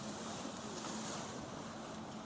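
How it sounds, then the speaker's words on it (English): Lake Superior waves breaking against a canal wall at the harbour, a steady broadband wash of surf and spray with wind noise, continuous and fairly loud, with no voices. "Got a wave that just broke along the wall here."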